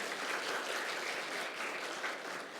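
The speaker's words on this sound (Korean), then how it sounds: "뜻깊은 기조 발표를 해주신 김영률 회장님께 다시 한번 큰 박수 부탁드리겠습니다" An audience at a legal policy symposium gives steady applause after a keynote address, a soft, even wash of clapping that continues throughout.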